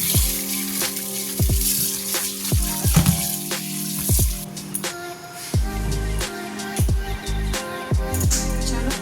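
Catla fish sizzling in hot oil in a home kitchen, a steady crackling fry with repeated sharp clinks and knocks of utensils over it, close and moderately loud.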